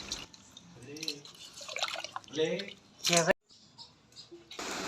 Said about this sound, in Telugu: ఆ ఉప్పు వేసి రెండు మూడు నీళ్ళు వేసి చక్కగా కడిగేయండి ఈ రకంగా